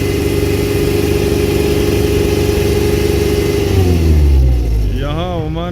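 A recovery truck in Oman works to pull a broken-down car up onto its bed, a steady loud engine drone with rising revs near the end, while voices talk over it.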